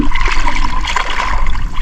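Strong water current rushes past underwater while spearfishing in the Philippines, a steady, loud, churning wash with a low rumble and no break.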